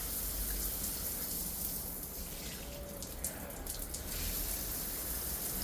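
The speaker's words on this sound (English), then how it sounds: "this is the perfect way to enjoy a refreshing warm shower outdoors, completely powered by the sun" Water sprays from a Parkside solar-powered outdoor shower in a steady, soft hiss with faint splashing, continuous and fairly quiet throughout.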